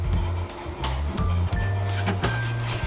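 A sewing machine stitches across fabric while a shirt or shirtdress is being sewn, its motor whirring close and loud in short, uneven runs that stop and restart, with no talk.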